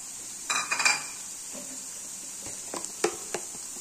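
Onions, tomatoes and garlic are stirred in a pan, with a soft background sizzle and a few sharp clinks and scrapes of a utensil against the pan, close and intermittent.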